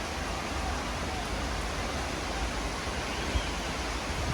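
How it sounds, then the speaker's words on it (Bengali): Rain falls steadily during a storm in Bangladesh, a dense, even hiss that holds at a constant level throughout, with no voices over it. "বৃষ্টির শব্দ তখন আমাকে আন্দোলিত করে"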